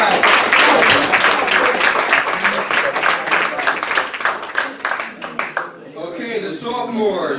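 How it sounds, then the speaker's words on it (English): Applause rings out for the freshman class at a men's soccer team banquet, a burst of clapping from the gathered room that tapers off midway, followed by people talking near the end. "Round of applause for the freshman class."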